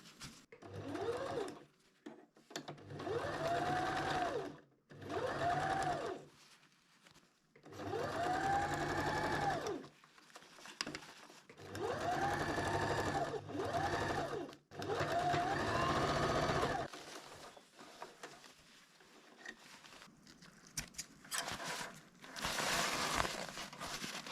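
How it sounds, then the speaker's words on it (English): A sewing machine stitches hammock fabric with a locking stitch, running close by in several distinct bursts separated by short pauses, each run steady and whirring. "Now you need to just sew it. And just making locking thread."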